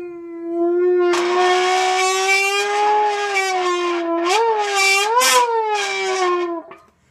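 A voice imitates a high-pitched Formula race car using a soda can, producing a sustained, close whining tone that holds steady, then swoops up and down in pitch before cutting off.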